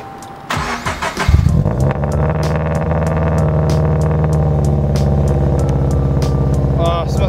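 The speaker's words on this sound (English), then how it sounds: "It's gonna be a rough startup." A boosted Subaru BRZ's engine cranks briefly, then catches and settles into a loud, uneven, lumpy idle close by, with a rough rhythmic pulse throughout.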